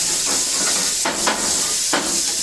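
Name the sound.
shrimp sizzling in a pan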